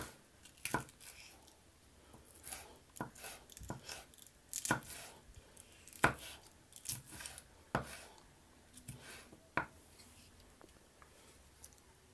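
A knife chops hot pepper on a board in irregular close sharp clicks and taps, with quiet rustling between strokes.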